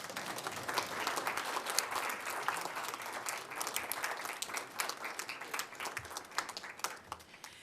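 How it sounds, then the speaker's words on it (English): Audience at a city council candidate forum applauds with quiet, distant, steady clapping throughout, with individual claps standing out toward the end. "You can clap now."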